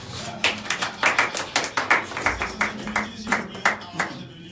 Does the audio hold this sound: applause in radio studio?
yes